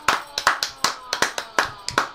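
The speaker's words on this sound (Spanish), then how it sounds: "Y lo tengo que aplaudir porque fue un golazo." A single person claps by hand while celebrating a football goal, about eight sharp, close claps in a quick, slightly uneven rhythm, with faint voice in the background.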